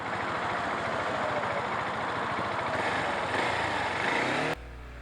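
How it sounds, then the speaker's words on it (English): A 2017 KTM Duke 690 single-cylinder motorcycle with its stock muffler accelerates hard up an on-ramp, a loud continuous engine drone blended with wind rush that cuts off abruptly near the end. "I pushed the throttle pretty hard getting on this on-ramp, and the Duke 690 did not disappoint"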